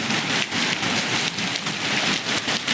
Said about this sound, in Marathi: एवढा जोरात झाला पाऊस